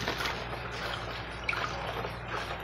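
Coarse salt being stirred into a container of water to make brine for churrasco meat, a steady liquid swishing and trickling with small drips, close and continuous, no talk.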